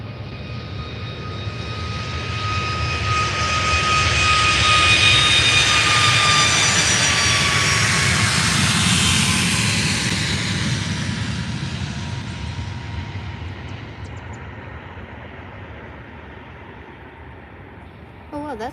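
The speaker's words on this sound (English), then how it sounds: "A Eurowings A320, all painted in white, from Hamburg." A Eurowings Airbus A320 jet at Faro airport roars past, swelling to a loud whining rumble with a falling engine tone, then slowly fading into a distant hum.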